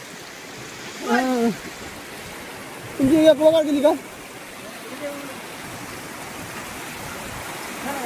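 Continuous rushing water flows steadily throughout, like runoff streaming along a road, while people speak briefly over it a couple of times.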